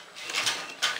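A sewing machine stitches a trouser hem in a brief mechanical whir, with a short burst of motor noise, close by and without talking.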